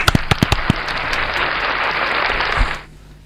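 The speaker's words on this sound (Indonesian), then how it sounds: "Tepuk tangan dulu buat kita semuanya." In a podcast studio, a handful of sharp separate claps open and quickly merge into a brief burst of steady applause from a small group, which cuts off abruptly into near silence.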